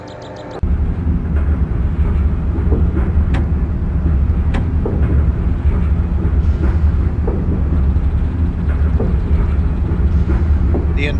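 A GG-1 electric locomotive runs with a steady loud low rumble and hum, close and continuous for about ten seconds, with faint clicks and clanks over it and no voices.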